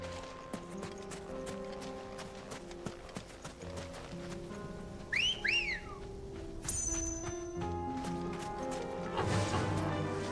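In a video game, a sharp two-note whistle rings out over steady horse hoof clip-clops and background game music, with the whistle brief and bright near the middle.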